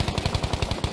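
Rapid burst of video game gunfire aimed at the ground, about a dozen sharp, evenly spaced shots in one second, loud and close.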